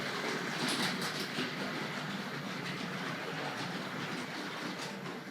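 A Hornby Dublo model tank locomotive running on a toy railway layout, giving a steady whirring rumble with light rapid clicking of wheels on track, close and continuous without talk.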